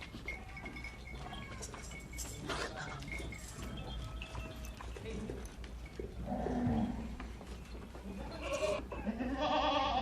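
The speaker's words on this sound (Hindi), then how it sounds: "ये बकरी जो अभी जा रही है" Kamori goats on a large goat farm bleat several times in the latter half, with hoof clatter and farmyard bustle throughout.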